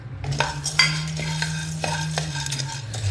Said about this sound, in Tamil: நெக்ஸ்ட்டு நம்ம சூரியகாந்தி விதை போடுறோம்.